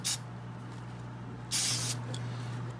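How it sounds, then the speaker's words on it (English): Two short hissing bursts of silicone spray from a can, a brief one at the start and a longer one midway, over a steady low hum. "I'm just gonna give a nice little coating of spray silicone."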